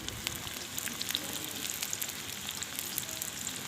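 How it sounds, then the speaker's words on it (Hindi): Chopped onions fry in oil in a pan for a desi chicken karahi, a steady soft sizzle with faint crackles throughout, alone without any talk. "ये हमारा प्याज जो है ना, जब हल्का सा ब्राउन हो जाएगा ना, तब इसमें हम गोश्त डाल लेंगे।"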